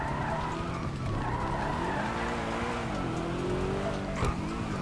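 A stuck car in GTA Online grinds and skids against a fence, giving a steady, loud engine drone with wavering tire-scrape tones that runs unbroken throughout.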